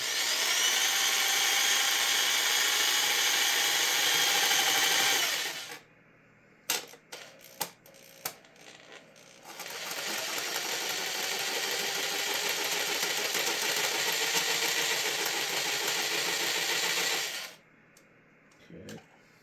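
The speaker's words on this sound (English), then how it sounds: "Using a really fine-toothed blade, and we're just going to come in here and try and cut it out as good as we can." A fine-toothed saw cuts a plastic Squier Stratocaster pickguard in two long, loud stretches of steady rasping strokes, broken by a quieter gap of scattered knocks and handling noise.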